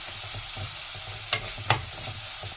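Spices frying in oil in a pan over a low flame for a Sindhi pakoda kadhi, a continuous close sizzle with two sharper stirring scrapes partway through, no voices.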